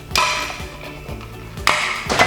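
A hand sheet metal notcher snips material while shaping a bread pan, giving two or three sharp metallic clacks and bangs close by with short ringing gaps between them.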